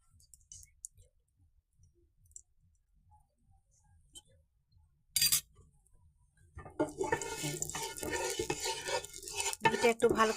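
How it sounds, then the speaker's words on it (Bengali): Spoon stirring melting ghee in a hot kadai for carrot halwa: near-silence at first, a sharp clank, then steady close scraping and soft sizzling. "ঘিটা একটু ভালো করে এইভাবে মেল করে নিব কড়াইটাতে"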